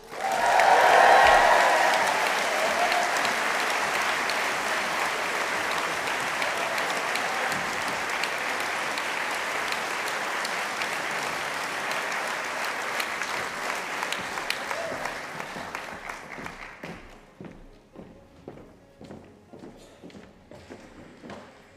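Audience applause and cheering at a University of Galway autumn conferring ceremony rise loudly at the start, hold steady for about fifteen seconds, then thin out into scattered claps as the noise fades.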